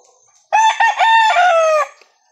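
A White Hatch gamefowl rooster crows once, loud and close, a single long harmonic call lasting about a second and a half with no talk over it.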